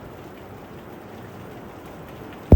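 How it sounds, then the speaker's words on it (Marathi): Heavy rain pours steadily outdoors as a broad, even hiss, close and continuous, ending with a sudden loud thump. "नुसता पाऊस."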